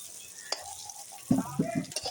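New potatoes dropped into hot oil in a home kitchen pan, right after brinjal frying: a soft sizzle with a few stirring scrapes and clatters, close and moderately quiet, with no one talking.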